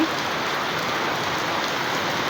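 Heavy rain pours down in a dense, unbroken hiss that drums steadily on surfaces throughout, loud and even with no voices.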